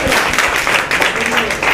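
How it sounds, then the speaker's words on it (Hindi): Students in a government school classroom clap for a classmate who answered correctly, a dense burst of applause running the whole moment with voices mixed in. "ताली बजाइए इनके लिए"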